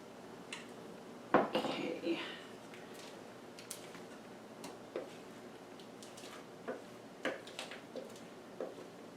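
Cranberry bread batter is scraped and dolloped into two baking pans, giving a clatter of utensil against pan followed by scattered soft taps and knocks close by, with quiet talk.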